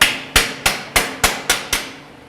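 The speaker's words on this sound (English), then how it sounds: "with a few light taps to help bring it together." Seven sharp, ringing hammer taps land at a steady pace while seating the band of a shaker screen, each hit loud and close with a short metallic decay.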